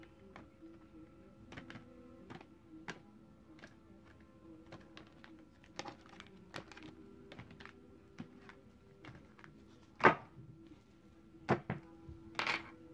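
A deck of oracle cards, the life purpose deck, is cut and shuffled by hand, giving soft irregular taps and riffling clicks close by in a quiet room, with a few sharper knocks near the end and no talk.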